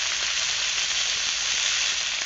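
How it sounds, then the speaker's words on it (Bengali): Small fish fry in hot oil in a wok over a wood-fired clay stove, giving a steady, fairly loud, close sizzling hiss throughout without any voices. "এবার আমি ছোট ছোট মাছগুলো ভেজে নিচ্ছি।"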